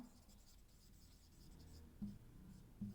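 A pen scratches and scribbles quietly on a board or paper while a word is written out, with faint continuous strokes and a couple of slightly louder taps near the end.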